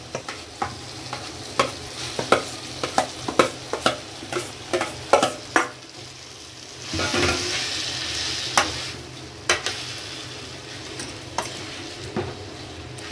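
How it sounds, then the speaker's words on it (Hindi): Potatoes fry in a pan and are stirred with a utensil, sharp scraping clicks repeating every second or so over a steady sizzle, with a louder burst of frying midway. "अब देखिए आलू डाल रही हूँ।"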